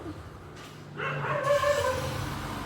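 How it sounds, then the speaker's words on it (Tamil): A dog barks nearby, a few close, loud yips and barks after a quieter opening. "பக்கத்தில் ஒரு நாய் குலையுது"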